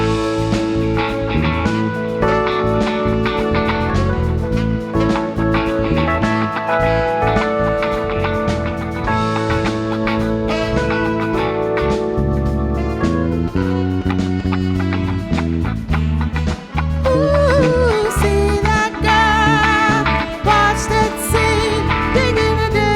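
A song plays over the sound system at a wedding reception for the father-daughter dance. The song is loud and continuous and fills the whole stretch, with no talk over it.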